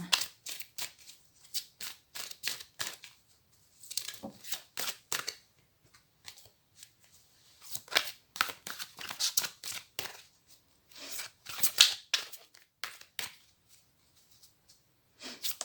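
Tarot cards shuffled by hand for a full moon reading, close and soft in quick bursts of riffling and sliding, broken by short pauses, with no talking.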